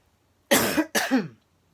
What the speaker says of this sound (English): I will apologize in advance for any sniffling and coughing I do